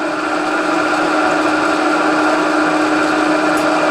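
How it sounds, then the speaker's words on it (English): A milling machine used as a drill press bores a hole with cutting oil, a steady high whine of the spindle and cutter holding constant and loud from start to finish. "and drill this hole"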